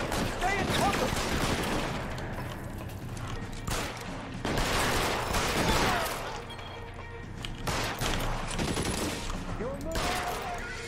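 Gunfire in the L.A. Noire video game: bursts of shots and rattling volleys come in waves over about eleven seconds, mixed with crashes and clatter, while voices speak over the fighting.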